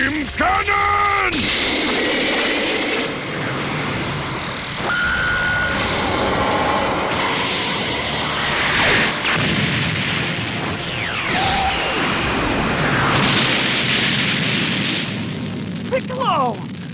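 Loud arcade-style blasts and booming explosions with whooshing energy sweeps from Piccolo's Special Beam Cannon in Dragon Ball Xenoverse 2, layered over game music and an excited voice shouting.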